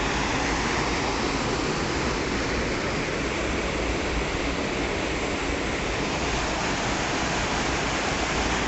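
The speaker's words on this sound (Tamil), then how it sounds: "அருவி விழுது பாருங்கள்." A loud, steady roar of falling water fills everything, constant and unbroken like a nearby waterfall, with no voices.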